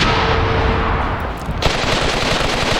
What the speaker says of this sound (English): And he's shooting back with his machine gun.